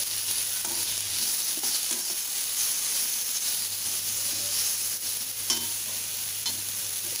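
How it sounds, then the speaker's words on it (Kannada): Peppercorns and cumin seeds fry in a hot pan with a steady, close sizzling hiss that runs continuously, with faint stirring scrapes and occasional soft clicks and no voices. "ಖಾರಕ್ಕೆ ನಾನು ಕಾಳುಮೆಣಸು 10 ಹಾಕೋತೀನಿ. ಸ್ವಲ್ಪ ಫ್ರೈ ಮಾಡ್ಕೊಳ್ಳಿ."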